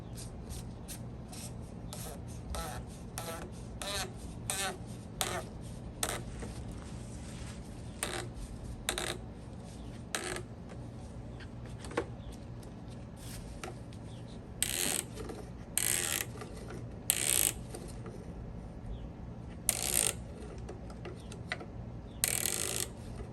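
Ratchet clicks come in irregular bursts with rubbing and scraping as a Mercedes C300 W204 oil filter housing is screwed on, steady at close range over a low background hum.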